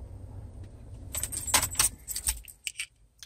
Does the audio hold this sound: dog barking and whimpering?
no